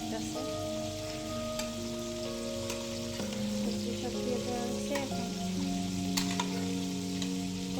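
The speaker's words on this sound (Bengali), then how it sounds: "এখানে সবজি কষানো" Vegetables sautéing in a pan for a home iftar meal make a continuous sizzle. Faint steady tones sound in the background, and scattered light clicks come from stirring.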